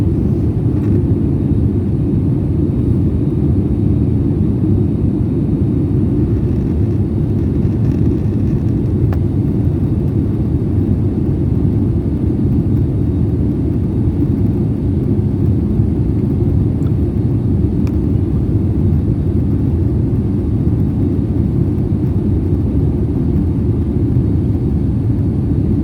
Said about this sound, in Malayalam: ഫ്ലൈറ്റ് ഏകദേശം താഴ്ന്നു തുടങ്ങിയിട്ടുണ്ട്.